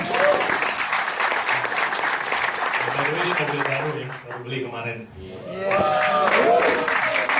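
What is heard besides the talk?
applause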